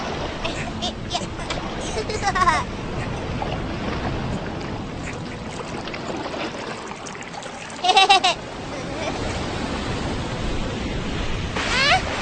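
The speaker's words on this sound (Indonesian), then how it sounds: "Ayah, awas ada ombak." Cartoon ocean waves wash and surge steadily at close range, with brief splashing bursts, while children's and a father's voices talk over the water.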